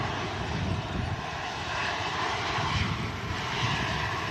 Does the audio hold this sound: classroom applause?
no